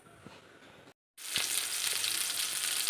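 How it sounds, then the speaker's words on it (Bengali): Pointed gourd slices frying in oil in a home kitchen pan, a quiet sizzle that cuts out for a moment and returns as a loud, steady hiss with a few soft utensil taps. "দেখো পটলের ভাজা হয়ে গেছে, আর এদিকে সয়াবিন আলু ভেজে নিয়েছি।"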